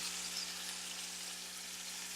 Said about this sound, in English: you can hear the sizzling on the goose